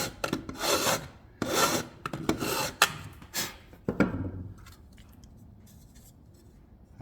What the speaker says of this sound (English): I ended up using a regular single cut file instead of the diamond file because it's perfect size and it's nice and wide, so I'm getting a nice smooth cut.